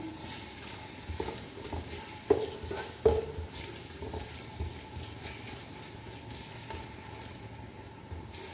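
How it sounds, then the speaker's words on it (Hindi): Garlic, ginger and onions fry in oil for a chicken shorba, giving a low steady sizzle with occasional scraping stirs and two sharp utensil knocks against the pan, close and fairly quiet. "करेंगे अच्छा सा इसको मिक्स इसके साथ प्याज़ों के साथ ऑयल में।"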